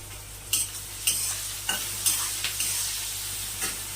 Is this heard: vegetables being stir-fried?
yes